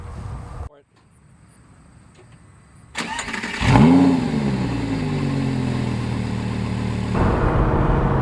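A 2010 Lamborghini Gallardo LP560-4 Spyder's engine cranks and fires after a quiet pause, flares into a loud rev, then settles into a steady, rumbling idle close by.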